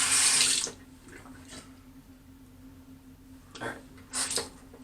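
Sink tap water running while shaving lather is rinsed off, a loud splashing rush at the start, then quieter trickles and a couple of short splashing bursts near the end.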